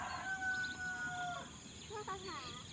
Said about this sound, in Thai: ไก่มาแล้ว